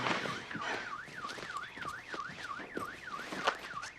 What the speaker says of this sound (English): That's the security alarm.